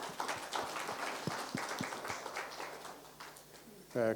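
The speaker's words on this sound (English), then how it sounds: "Give it a clap here." An audience claps after a talk at a trade event: a faint, scattered wash of hand claps with a few distinct slaps, heard at a distance and ending with a short burst of voice.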